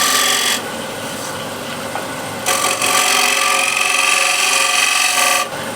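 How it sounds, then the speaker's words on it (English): A skew chisel shear-scrapes a wooden picture frame into the corner, producing close, raspy scraping strokes in two sustained bursts separated by a brief pause. "Nice shear scrape right into the corner"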